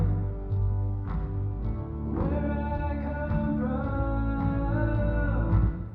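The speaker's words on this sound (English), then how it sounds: "So that's the sound of the reverb with this EQ in place." A soloed reverb return with a high-cut EQ applied, giving a dark, washy tail of blurred sustained tones and muffled vocal-like phrases, steady and fairly loud, without any spoken talk.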